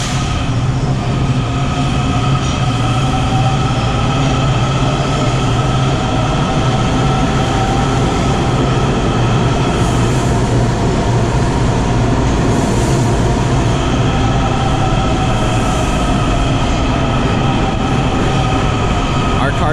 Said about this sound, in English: This is our train arriving at Fort Totten